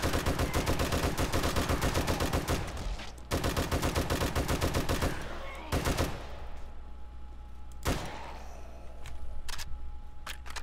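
Rapid automatic gunfire rattles loudly and continuously in the video game 7 Days to Die while fighting off a zombie horde, broken by a few heavier blasts and brief gaps, with no talking.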